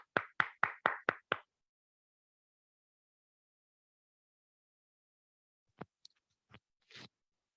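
At a VLCC Wellscience business seminar, a burst of six quick, evenly spaced claps opens a welcome, followed after a long silence by a few scattered, fainter claps.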